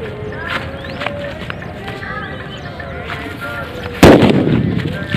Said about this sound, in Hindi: ये सूतली बम लगा के इस बॉल को तो फटाफट से इसको भी आग लगाते हैं